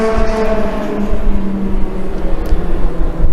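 Legend cars racing at New Hampshire Motor Speedway, with a loud, sustained engine drone and a steady roar of several cars lapping the track.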